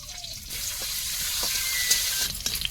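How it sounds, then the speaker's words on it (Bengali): Green and dried chilies, bay leaf and whole cumin frying in oil in a Bengali home kitchen, a steady close sizzle with a few soft knocks from stirring, no talk. "তেলের মধ্যে কাঁচা লঙ্কা শুকনো লঙ্কা তেজপাতা সব দিয়ে দিলাম একটু গোটা জিরে"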